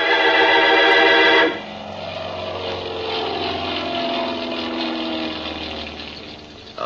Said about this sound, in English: I stood watching some of the planes take off and land.